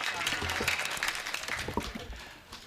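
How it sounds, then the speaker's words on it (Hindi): An audience applauds at a Hindi comedy poetry performance, a burst of crowd clapping mixed with voices that tapers off toward the end. "एक बार तालियां बजा।"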